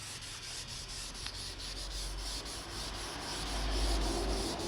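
Wood is sanded with sandpaper for finishing in a continuous scratchy rubbing with back-and-forth strokes, close and fairly quiet, growing slightly louder near the end.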